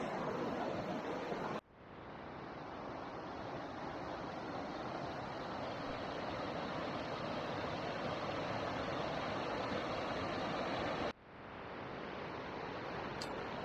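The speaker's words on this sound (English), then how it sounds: "A lot of water going through there." Fast water rushes through a creek near a swimming hole around a bush camp on the Rubicon, a steady broadband roar with two brief dips, heard close and alone.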